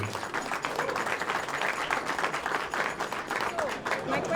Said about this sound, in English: I think we have a big clap for him